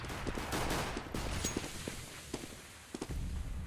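Decoy grenades in Counter-Strike on the Inferno map mimic gunfire: a dense run of rapid shots and bursts with scattered thuds and footsteps, loud and continuous against a busy game background.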